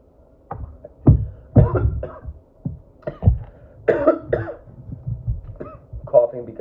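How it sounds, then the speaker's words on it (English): A person coughing repeatedly, a string of harsh, close bursts with short gaps between them and some throat clearing. "Coughing because of potency."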